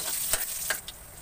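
Garlic sautés in hot oil for sinigang na bangus at hipon, giving a soft, steady sizzling hiss with a few light utensil taps. It sounds fairly quiet and no one speaks.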